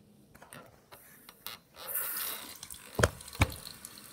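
Water runs from a tap into a sink while lip scrub is rinsed off, a steady splashing stream rising midway, with a couple of sharp knocks and drips near the end and no talk.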